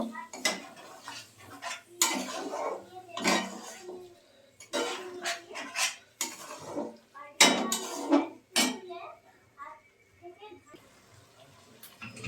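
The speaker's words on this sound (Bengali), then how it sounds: "দিয়ে মটরটাকে মশলার সঙ্গে খুব ভালো করে কষিয়ে নেব।" Spoon scraping and clinking in a pan as boiled peas are stirred and fried with spices, a busy run of repeated scrapes and knocks with a voice talking over them.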